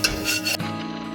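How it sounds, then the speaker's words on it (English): Crispy air-fried paneer 65 is tossed in a pan, giving a brief, close scraping and rustling rasp. "Love that sound of the crispy paneer."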